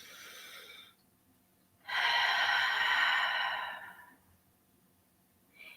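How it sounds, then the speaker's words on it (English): A person takes one long, deep, audible breath in through the nose, a steady airy draw lasting about two seconds. Shorter breaths come before and after it, with no talking. "Deep breath in."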